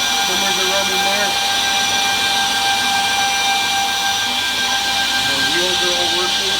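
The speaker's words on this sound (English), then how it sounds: "we're going to run the system. So our buffers are running there. Our trimmers are running there." A BRANDT KDN 210B edgebander runs with its buffers and trimmers spinning, a loud steady machine whine and hiss with tonal hum that continues throughout while someone talks over it.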